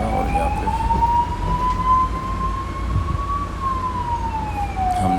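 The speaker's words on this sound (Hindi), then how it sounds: "इसलिए हमने सायरन बजाना पड़ा" An ambulance siren wails in one long, slow tone that rises and then falls, heard nearby over a steady low road rumble.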